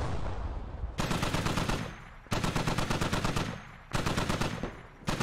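DShK heavy machine gun firing in the military game Squad, three long, loud sustained bursts of rapid heavy thumping shots close by, separated by short pauses.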